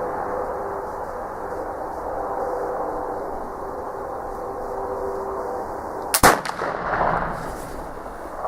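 Traditions PA Pellet Flintlock air rifle fires once outdoors: a sudden sharp crack after a steady quiet background, followed by a brief rustling tail as things settle.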